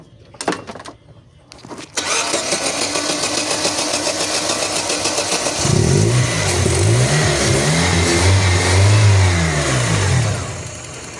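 A Chevrolet Corsa Evolution with a no-start fault cranks with a rhythmic, labored churn for several seconds, then catches and settles into a loud, close idle with rising and falling revs.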